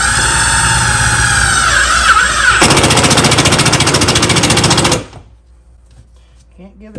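Zinc-coated construction screws are driven into concrete board with a power driver: a steady whirring motor hum, then a loud rapid ratcheting chatter for a couple of seconds before it stops abruptly, leaving quiet room tone.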